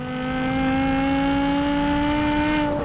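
A Jaguar car engine roars at a club track day, loud and close, holding a steady high revving note with strong harmonic tones for the whole stretch.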